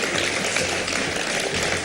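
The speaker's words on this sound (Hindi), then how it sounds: "सैयद मोहम्मद अहमद साहब के लिए तालियां" Steady crowd applause for Syed Mohammad Ahmed, the writer being introduced, a dense continuous clapping wash at even loudness throughout with no voices over it.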